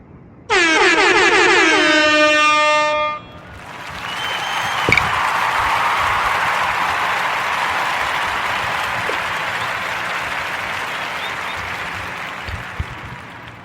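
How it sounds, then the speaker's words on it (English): Loud blaring air horn sounds for a couple of seconds, then studio audience applause swells and holds steady as a dense wash, close and full, for the rest of the stretch. "give a warm narrative podcast round of applause for young Miss Taylor Cassidy"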